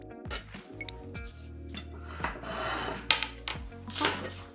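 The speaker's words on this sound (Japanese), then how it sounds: "ベーコン、これはちょっと厚めに切っていこうかなと思って" Knife slicing thick pieces from a block of bacon on a board, a series of short rubbing cuts and soft knocks of the blade, close and fairly quiet, with no talking.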